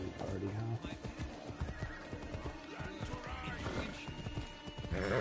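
A horse in the video game Assassin's Creed Odyssey whinnies and neighs, with clip-clopping hooves and game background sounds, and a voice is heard speaking alongside it.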